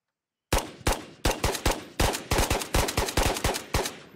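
Gunfire in the VR shooter game Ghosts of Tabor. After half a second of silence, about a dozen loud, sharp shots ring out in quick, uneven bursts, each with a short echoing tail.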